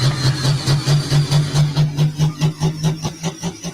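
A heavy pulling tractor engine throbs with a fast, regular pulsing rhythm at a pulling event, loud and close, slowing slightly toward the end.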